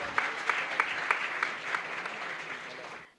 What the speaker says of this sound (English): Can we please have a round of applause for the literary genius who deserves every accolade?